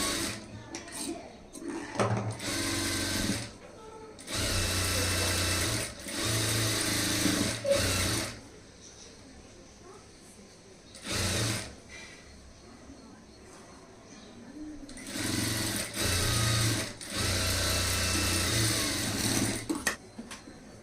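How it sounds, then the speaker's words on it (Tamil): An overlock sewing machine stitches the sleeve of a high-neck blouse in several bursts of fast whirring, each a second or two long, with quiet gaps between them and a voice speaking in the pauses. "ஸ்லீவில் வந்து ஓவர்லாக் போட்டாச்சு"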